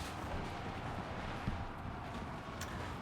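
Gunfire from Silver Bullets units firing on a Peasant Mob in a strategy video game battle, a dense continuous rumble of distant shots and booms with little separation between them.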